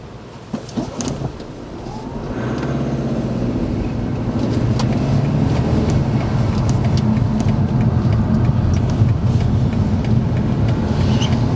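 A car engine heard from inside the cabin, a steady low rumble that settles and holds as the vehicle slows toward idle, continuous and fairly loud with no talking.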